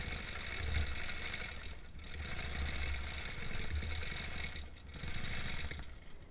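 Sewing machine hums in a steady, close mechanical whir while stitching a mini quilt, running continuously with brief slowdowns between passes.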